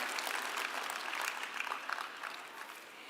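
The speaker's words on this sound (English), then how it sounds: "Let's give another round of applause for him" A 4-H general assembly audience applauds a guest speaker: steady, even clapping from a large crowd fills the whole stretch, soft and somewhat distant with no talking over it.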